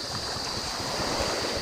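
Steady surf and wind at a seashore during a strengthening typhoon, a continuous rushing wash with wind buffeting the microphone.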